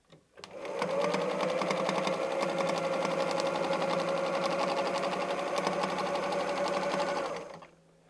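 A domestic sewing machine runs steadily for about seven seconds during free-motion quilting, a close, even mechanical whir with a rapid needle chatter that starts up and then winds down at the end.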